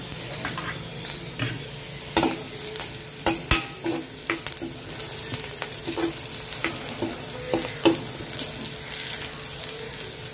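Onions and chillies fry in a pan, a continuous close sizzle broken by repeated scraping stirs and sharp utensil knocks against the pan, fairly loud and with no voices.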